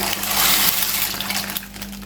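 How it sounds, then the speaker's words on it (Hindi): Macaroni pasta drops into a pot of boiling water with a brief rushing, bubbling splash, loud and close, fading toward the end. "तो यहाँ पर पानी में बबल्स आ चुके हैं। अब हम इसमें डाल देंगे मैकरोनी"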